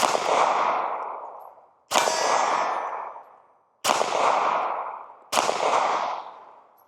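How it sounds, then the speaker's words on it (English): Four pistol shots from a Ruger LCP MAX fired at an outdoor steel target, each a sharp loud crack followed by a ringing metallic decay, spaced roughly two seconds apart with no talking. "let's go ahead and shoot the steel target right quick, see if we can hit it."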